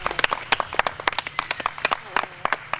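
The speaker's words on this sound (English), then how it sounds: "Let's hear a round of applause for that." Scattered, fairly sparse clapping from a small audience after a nitrate film burn demonstration, individual sharp claps at close range in an irregular rhythm, fading quickly.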